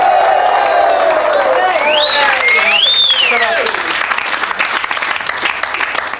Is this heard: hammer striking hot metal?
no